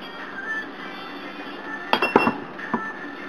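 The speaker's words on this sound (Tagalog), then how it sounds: "Swirl lang natin yung pan para ma-coat ng oil yung bottom niya" Canola oil swirled around a hot frying pan, with a few sharp metallic clinks and scrapes of the pan clustered near the middle, close and moderately loud over a quiet room.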